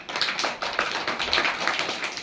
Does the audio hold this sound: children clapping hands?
yes